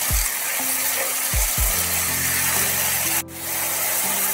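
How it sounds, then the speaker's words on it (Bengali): Semolina fries in oil in a pan for upma while a spoon stirs it, giving a steady hiss with a few scraping strokes and one sharp clatter, close and without talk. "ভালোভাবে একটু তেলের সাথে নাড়াচাড়া করে ভেজে নিতে হবে"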